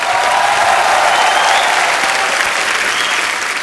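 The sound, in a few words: studio audience applause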